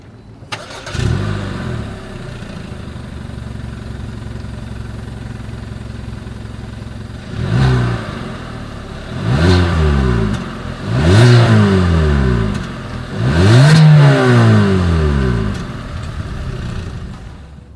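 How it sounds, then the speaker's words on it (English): A 2020 Hyundai Venue SUV with a single exhaust cranks and starts, settles into idle, then gets revved four times in succession, each rise and fall loud and close at the tailpipe. "As always, here is that exhaust clip."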